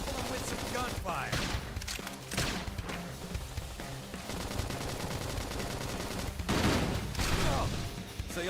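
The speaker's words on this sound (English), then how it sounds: "Topple them with some gunfire!" Rapid gunfire bursts in the video game Xenoblade Chronicles X, set in a dense battle mix with explosions, slashes and music; the volleys run continuously and loudly, peaking in a heavier burst near the end.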